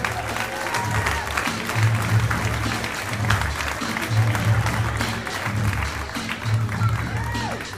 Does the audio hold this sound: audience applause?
yes